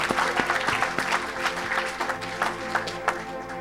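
An audience claps steadily through a short stretch, a dense patter of many hands filling the space at moderate volume, with no voices standing out.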